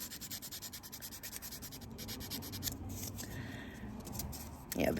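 Nail file rasping steadily across a fingernail during a spring manicure, a close, continuous scratchy rubbing in even back-and-forth strokes with a brief louder scrape at the end.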